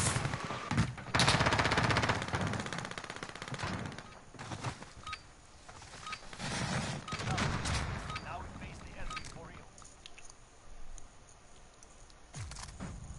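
Repeated bursts of gunfire from enemy players in a first-person shooter video game, rattling in loud clusters early on and returning intermittently, with a voice talking over parts of it.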